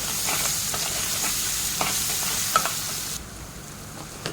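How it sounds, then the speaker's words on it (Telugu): Fried onions with ginger garlic paste and a Maggi cube sizzling steadily in a pan, a continuous close hiss broken by a few light stirring scrapes, no voices. "ఇప్పుడు అల్లం వెల్లుల్లి పేస్ట్ ఒక క్యూబ్ మాజి వేసి ఇది కూడా బాగా ఫ్రై చేసుకోవాలి"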